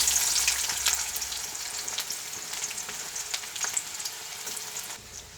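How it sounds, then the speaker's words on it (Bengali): Chopped onion frying in hot oil with dried red chilli, whole cumin and a pinch of sugar, a loud continuous crackling sizzle that slowly eases, heard up close without voices. "এবারে পেঁয়াজটাকে সুন্দরভাবে ভাজব"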